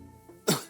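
A single sharp cough bursts out after a faint earlier throat sound, loud and close, fading over a fraction of a second, feigned by a person as if ill with a cold.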